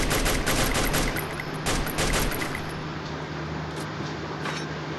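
Sustained M249 light machine gun fire in the Free Fire battle royale game, a dense rapid burst that is loud and continuous through the first half, then continues more steadily at a slightly lower level with no talking.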